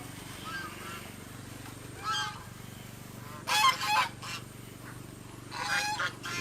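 Geese on a farm with goats, ducks and turkeys give several loud honking bursts at close range, spaced apart over a steady low background hum.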